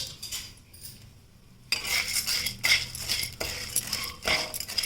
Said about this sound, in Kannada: ಈ ಕಡಲೆಬೇಳೆ ಇದೆಯಲ್ಲ ಇದನ್ನು ಹಾಕ್ಕೊಂಡು ಕೆಂಪಾಗೋವರೆಗೂ ಹುರ್ಕೋಬೇಕು